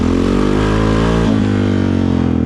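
Honda engine fitted with nitrous, revving out loudly and steadily on its tuned map, a strong droning tone that dips briefly midway before climbing again, close up with no talk.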